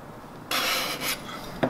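Card scraper drawn over the wooden body of a handmade Japanese hand plane, giving two short rasping scrapes close by, followed by a brief faint scuff.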